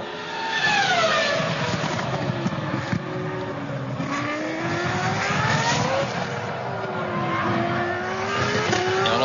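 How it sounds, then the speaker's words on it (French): A Formula 1 car in the F1 2003 video game accelerates repeatedly with its traction control cutting in, a loud, steady, high-pitched engine with rising and falling pitch sweeps as it revs up and shifts through gears. "On entend assez nettement l'antipatinage sur ces plans, sur ces images, à chaque accélération"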